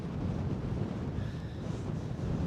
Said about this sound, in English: Beautiful windy day,